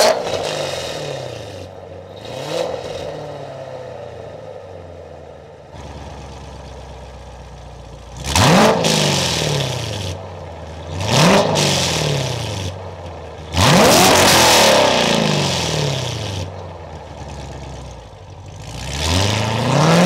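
A Z51 Corvette V8 with Kooks long-tube headers idles with a deep burble, then revs repeatedly in sharp rising blasts that fall back, growing louder and longer toward the end.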